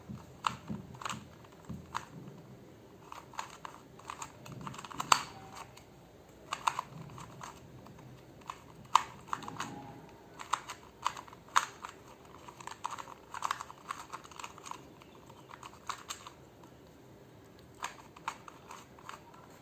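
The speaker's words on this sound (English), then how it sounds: "you have to shuffle the cube." Quick plastic clicks and clacks come in irregular bursts, close and fairly quiet, as a 2x2 Rubik's cube is twisted rapidly over and over.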